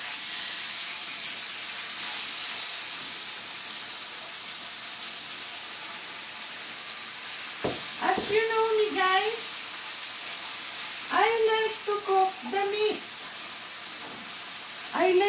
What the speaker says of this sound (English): Let's pan fry, fry this first.